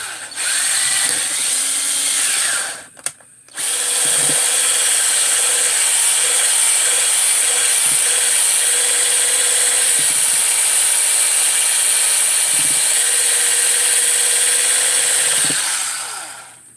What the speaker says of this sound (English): I'm just adding some Scotch-Brite here on a wheel,